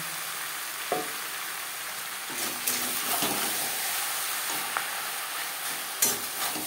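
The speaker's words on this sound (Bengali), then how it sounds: "এবার দিয়ে দেবো ম্যারিনেট করে রাখা চিকেন।" Marinated chicken added to a pan of lightly fried onion and tomato in oil, cooking for an aloo chicken curry; a steady soft sizzle runs throughout with a few sharper stirring clinks and scrapes, no talking.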